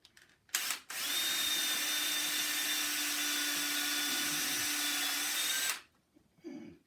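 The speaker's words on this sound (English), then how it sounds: "you want to drill the pilot hole so you don't split" A power drill whirs steadily for about five seconds drilling a pilot hole in wood, a high continuous motor whine with a brief start-up burst before it, then stops.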